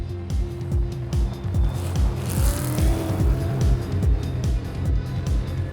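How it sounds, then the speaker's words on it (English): Rally cars race across desert dunes at the Rallye du Maroc 2018, engines roaring loud and continuous with rhythmic surging revs and gear changes close by. "Yasser Seyadan, the green car on the left here, has really come to life on these dunes"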